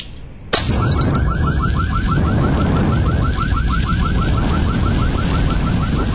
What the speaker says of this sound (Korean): 병이 사천면 유리창에 부딪혀 깨지면서 불꽃이 피어났다. 요란한 경적이 터져나왔다. 도난 경보음이었다.